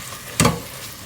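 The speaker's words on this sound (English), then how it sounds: "add just about another tablespoon or so more of olive oil and give those mushrooms some time to cook down in that deliciousness" Mushrooms cooking in olive oil in a pan, heard as one sharp, brief sizzling hiss that flares up and fades quickly over a faint low background.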